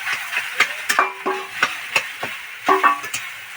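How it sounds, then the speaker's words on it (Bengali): Curry leaves frying in oil in a pan produce a steady close crackling sizzle with repeated spatula taps and scrapes at an irregular rhythm. "কারি পাতাগুলো ভাজা ভাজা হয়ে গেছে এবার"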